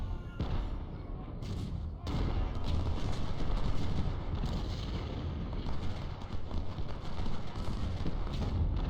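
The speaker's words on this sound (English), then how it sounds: "our artillery is starting to answer" Artillery fire in the Ultimate General: Civil War video game at Second Bull Run: a dense run of deep booms and thuds, loud and overlapping, rumbling on without a break.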